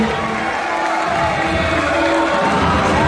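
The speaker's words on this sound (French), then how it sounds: "Et on peut applaudir Cédalix qui a lui aussi" A crowd at an amateur boxing gala cheers and claps continuously, a dense wash of applause and voices with no pauses.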